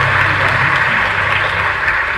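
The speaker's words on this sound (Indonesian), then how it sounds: "boleh tepuk tangan buat Gajah Mada" An audience at a university campus event at UGM in Yogyakarta gives loud, steady, continuous applause during a visit by Anies Baswedan, a thick wash of clapping without pause.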